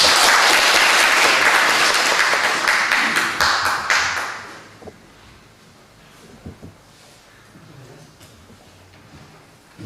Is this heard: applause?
yes